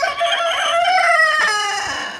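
A broody hen on a Ukrainian farm gives a loud, close, drawn-out vocal call, a continuous squawking cluck with no talk over it.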